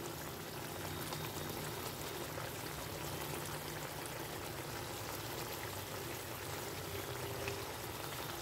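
Pointed gourd curry bubbles steadily in a pot, a soft, even simmer of small pops and gurgles, faint and continuous with no talking.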